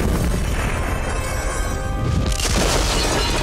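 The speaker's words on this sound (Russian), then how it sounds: "Вы это слышите? Это звуки боя." Cartoon battle sounds from a Winx Club fight scene: dense, continuous crashing and booming effects with shattering bursts, loud throughout and swelling again near the end.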